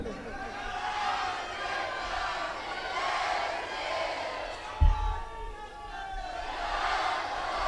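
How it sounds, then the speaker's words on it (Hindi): Large crowd at a religious discourse (pravachan) in Bhind shouting slogans, a dense wash of many voices rising and falling in waves, fairly distant and sustained, with one sharp thump partway through. "जितना लगा सको जोर से नारे, खुशी में तालियां बजा सको तालियां बजा लो।"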